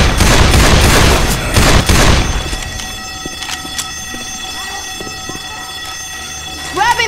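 Dense, rapid gunfire in the zombie shooter game Left 4 Dead 2, fired loud and continuous for about two seconds, then dropping to scattered shots and clanks with game noise underneath.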